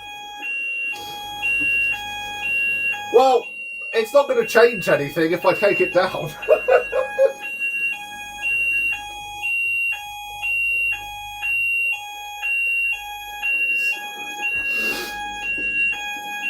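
A kitchen fire alarm sounding in repeated loud, high electronic beeps at a steady pulse, with someone talking over it for a stretch before the beeping carries on alone.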